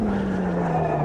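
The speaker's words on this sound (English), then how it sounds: "Oh yeah, big massive rev." A GT0-class race car engine in the racing game Automobilista 2 holds a loud, steady high-pitched drone that sags slightly in pitch across the moment.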